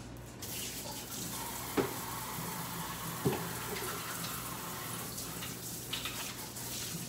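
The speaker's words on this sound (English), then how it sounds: "Now I'm gonna wash my hands." Tap water runs steadily into a sink while hands are washed under it, a constant close rushing hiss with a couple of brief splashy knocks and no talk.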